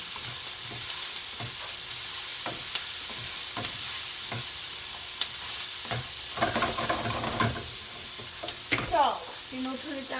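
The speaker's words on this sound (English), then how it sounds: "So then your spatula like this and move it around so it's going to start turning" Sliced onions searing in a hot pan and being pushed around with a spatula, a soft steady sizzle broken by scraping strokes that grow busier toward the end, with no voices.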